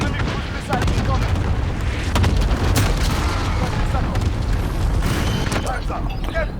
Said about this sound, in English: Friendly cluster strike inbound.